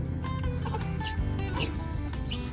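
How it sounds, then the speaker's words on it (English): Chickens cluck and cackle nearby in short, repeated bursts, a hen's squawking call after laying an egg rising over the flock's softer murmurs. "Got somebody laying an egg."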